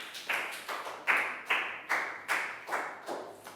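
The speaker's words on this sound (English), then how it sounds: "Big round of applause for Lakgao." A Year 3 math class claps together in a steady, evenly spaced beat of about nine sharp claps, each ringing briefly in the room, with no talking.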